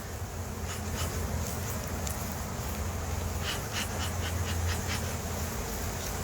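Honey bees buzz steadily around a hive box, a dense continuous drone with brief louder passes of individual bees close by, heard alone without talk.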